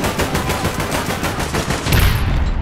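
Rapid bursts of automatic gunfire from the video game APB Reloaded, a dense continuous rattle of shots that swells louder near the end, with no talking over it.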